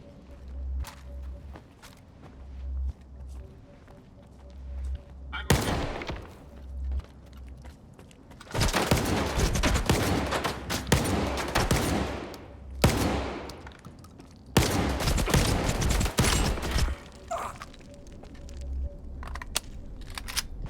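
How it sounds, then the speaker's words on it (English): Bursts of gunfire in S.T.A.L.K.E.R. 2: Heart of Chornobyl, with loud clustered volleys from roughly the middle of the span onward, separated by quieter stretches with footsteps and low rumble. "Someone above me shooting me?"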